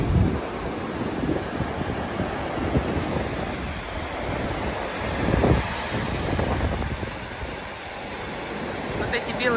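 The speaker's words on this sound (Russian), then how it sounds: "И волна вот такая прозрачная и высокая." Tall, clear sea waves with white caps break on the Bulgarian coast, a continuous rushing surf that swells and ebbs, with wind gusting across the microphone.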